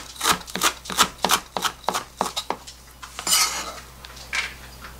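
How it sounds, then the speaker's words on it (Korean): Knife chopping rolled-up parsley finely on a cutting board, a quick run of sharp, close taps in a steady rhythm, then a few softer scraping strokes. "파슬리는 똘똘 말아서 이렇게 잘게 썰어 넣겠습니다"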